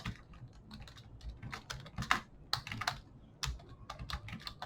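Fingers tap out text on a computer keyboard while coding an HTML and CSS web page, with close, irregular clicks in quick bursts and short pauses, no talking.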